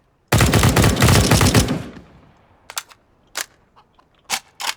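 Gunfire in the video game CS:GO: a loud, dense automatic burst of about a second and a half that fades out, followed by several separate short shots with gaps between them, close and unaccompanied by talk.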